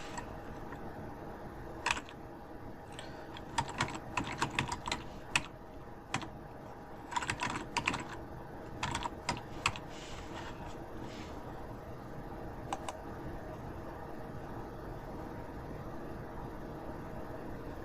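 Computer keyboard keys tapped in short irregular bursts while a root password is entered during a CentOS 8 installation, close and moderately clear over a steady background hiss.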